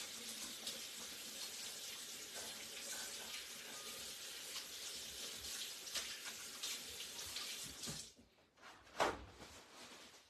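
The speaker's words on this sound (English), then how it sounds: "give my hand a quick rinse because I can't stand it" Water runs steadily from a kitchen tap for about eight seconds as a hand is rinsed beneath it, a broad close hiss that cuts off sharply, followed by a few faint splashes and drips.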